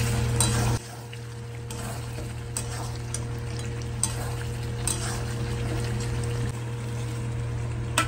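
Chicken curry with potatoes sizzles and is stirred in a pan, a close steady frying hiss with intermittent scraping strokes of the spoon, no talking over it.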